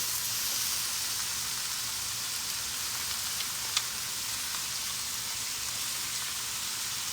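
Shrimp frying on a stovetop griddle, a steady, even sizzle like light rain with a faint pop or two, close and unbroken throughout.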